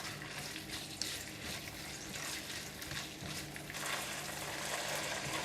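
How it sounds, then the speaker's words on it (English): Minced pork with light soy and oyster sauce stir-frying in a pan, a steady, fairly quiet sizzle with scraping stirs that grows a little fuller toward the end. "Give it a stir for about 2 minutes until minced pork is cooked."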